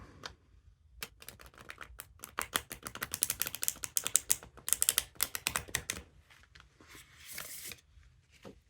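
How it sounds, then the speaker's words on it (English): Tarot cards being shuffled by hand, a quick run of crisp riffling flicks and soft card slaps that builds into dense bursts, close and fairly quiet, then trails off into a few looser shuffles. "Just bear with me until I shuffle."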